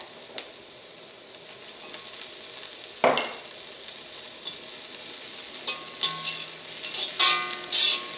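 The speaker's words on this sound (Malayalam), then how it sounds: "നല്ല ഹൈ ഫ്ലെയിമിൽ ഇട്ടിട്ട് തന്നെ ഇങ്ങനെ മിക്സ് ചെയ്ത് കൊടുക്കുക." Boiled white chickpeas tossed with chilli parotta in a heavy pan over high flame, a steady loud sizzle with scraping stir strokes and a few sharper clanks of the spatula, no voices.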